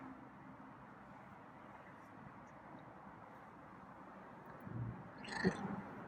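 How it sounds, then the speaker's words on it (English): A feral cat gives one brief, faint, chirp-like meow near the end, against a low, steady background hum. "Well, that's a nice meow too."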